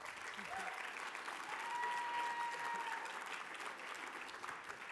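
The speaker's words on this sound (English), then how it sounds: "you should applaud that" Audience applause at a sports awards event, steady dense clapping from a sizable crowd, moderately distant and holding evenly for several seconds with a faint voice briefly audible.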